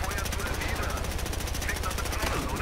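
Rapid automatic gunfire in Battlefield Hardline rattles in an even, fast-repeating stream throughout, loud and close, with someone talking over it.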